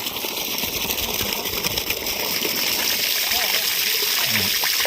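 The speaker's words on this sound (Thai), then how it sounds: "น้ำไหลเต็มท่อดีมากครับ" Water gushes from a 2-inch pipe fed by a solar-powered borehole pump drawing from a 42-meter well, a loud continuous rushing splash with people talking faintly underneath.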